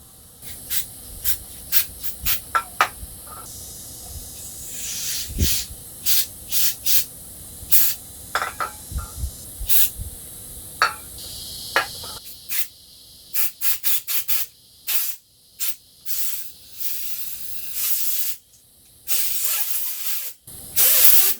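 Air compressor nozzle blowing out Suzuki LT 160 carburetor parts in many short sharp hissing blasts, close and loud, coming in irregular quick bursts with a few longer sprays toward the end.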